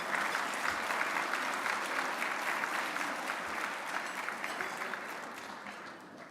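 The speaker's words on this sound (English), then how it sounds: "let's all give a round of applause to all of our speakers so far in this conference today" A conference audience in a hotel ballroom breaks into sustained, dense applause that holds steady for several seconds before gradually thinning toward the end.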